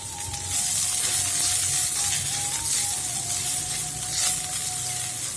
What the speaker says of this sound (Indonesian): Baru tumis bawang putih, daun bawang atau bawang prenya,